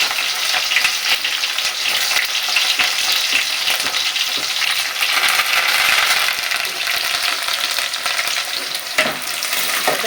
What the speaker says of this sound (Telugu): ఇప్పుడైతే ఉల్లిపాయ వేసుకుంటున్నాయి చూస్తున్నారు కదా